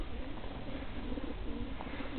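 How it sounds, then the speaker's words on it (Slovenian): Low, soft cooing of homing pigeons at an outdoor release, faint and murmuring beneath a steady rumble of open-air background noise. "Evo, ptice su tu."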